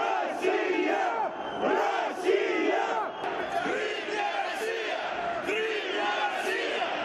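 A large crowd of protesters, Crimean Tatars and pro-Russian supporters, gathers outside the Crimean parliament, their loud massed voices surging in repeated rhythmic waves of shouting and chanting.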